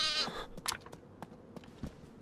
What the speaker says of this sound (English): That's the sound of a goat,